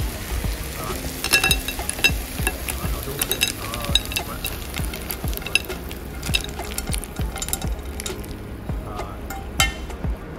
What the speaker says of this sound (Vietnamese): Trộn đều lên cho thấm gia vị và cho hết ra đĩa.